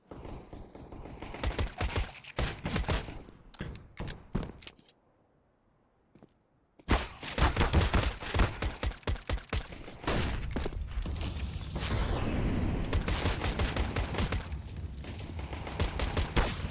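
Rapid gunfire in a competitive first-person shooter pistol round, with bursts of sharp shots and clicking mechanisms, a short near-silent pause, then dense continuous firing and game effects.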